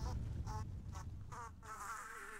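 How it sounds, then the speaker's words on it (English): In the video game Rayman Legends, a mosquito buzzes in pulsing bursts that swell and fade several times before settling into a longer whining drone, close and clear, with no talk. "I can hear my mosquito"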